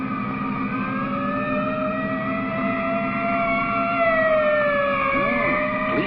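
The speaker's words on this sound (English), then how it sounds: "Police ambulance and everything." A wailing police ambulance siren from a 1949 film rises and falls in steady sweeping tones, fairly loud and continuous for several seconds, with no speech.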